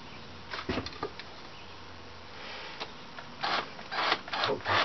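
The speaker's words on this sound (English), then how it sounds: "I want to drill the same size hole in the lid of this container" Short bursts of drilling into a plastic container lid, centered holes for a water filtration setup, with intermittent whirring and rasping that starts and stops, growing denser and louder toward the end; no talk.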